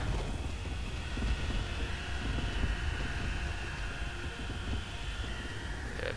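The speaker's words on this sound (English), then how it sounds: "Ah, the planes, the bombers." Aircraft and bombers drone overhead in a World War II battle in the Total War 1942 game, with a steady, broad engine roar and a faint high whine held throughout, with no talk over it.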